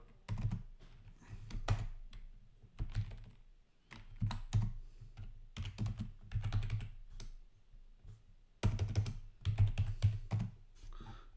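A computer keyboard is typed on while PHP code for a Stripe payment class is written, with close, crisp clicking bursts separated by short pauses and no talk.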